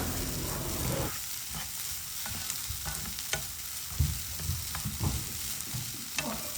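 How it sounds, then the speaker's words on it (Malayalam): Cooked lentils stirred through hot oil in a pan, a steady sizzle with repeated scraping strokes of a spoon, close and clear, no voices. "ഇനി ഇതിലോട്ട് നമ്മൾ വേവിച്ച് വെച്ച പയർ ചേർത്തിട്ട് ഒന്ന് മിക്സ് ചെയ്തെടുക്കുക ഈ ഒരു എണ്ണയിൽ ആദ്യം"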